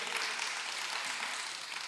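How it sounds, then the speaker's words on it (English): An audience gives a short round of applause at a community discussion on human trafficking, a dense, even patter of many hands that stays fairly soft and distant for about two seconds. "Give her a clap, everybody."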